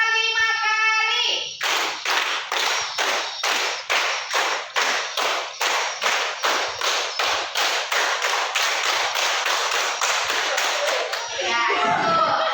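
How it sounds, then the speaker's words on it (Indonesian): A group of hands claps in a steady, evenly spaced rhythm during a classroom lesson, roughly twenty sharp, loud claps in a row that fill the room, with brief voices before and after. "Tepuk 5 kali."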